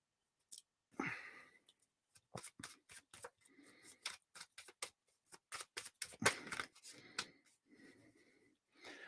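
Tarot cards are shuffled by hand in a quiet room, giving a series of crisp riffling and flicking bursts in uneven rhythm, close and fairly soft, with brief pauses between shuffles.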